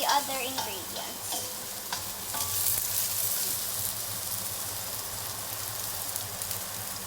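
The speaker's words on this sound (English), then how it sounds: "there's still oil and oil pops" Ginger frying in hot oil in a pan, a steady close sizzle with scattered pops and a few stirring scrapes at the start, no voices.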